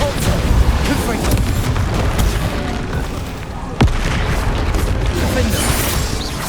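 Spell blasts and explosions from Hogwarts Legacy gameplay, a dense, loud, continuous barrage of booms and bursts with one sharp impact near the middle, over game music and effects.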